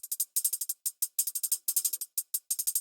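Crisp, bright hi-hat hits from an Ableton hi-hat loop in a rapid looping pattern, many short ticks in quick rhythmic groups with brief gaps, played alone.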